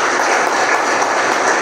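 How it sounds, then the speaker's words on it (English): Dense, steady applause from an audience at an African tax administration leaders' masterclass, filling a short burst without a break or any voice over it. "Give him a last round of applause."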